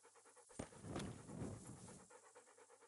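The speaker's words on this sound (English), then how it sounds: "the dog" A dog in the video game Kingdom Come: Deliverance pants close by in quick, rhythmic breaths, with a louder breathy burst in the middle before the steady panting resumes.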